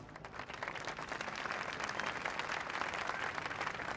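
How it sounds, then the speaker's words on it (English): Audience at a La Paz gathering claps for a speaker, a continuous wash of applause from many hands, fairly faint and distant, holding steady throughout with no talk over it. "Let's give her a round of applause."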